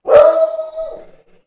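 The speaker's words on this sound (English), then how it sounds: "He's a beagle, and he's good at noises." A beagle gives a single loud, close bark that stretches into a short howling bay and fades over about a second, with no talking.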